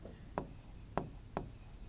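A pen scratches on paper while someone fills in a worksheet label, making three faint, brief strokes spaced about half a second apart over a quiet room hiss.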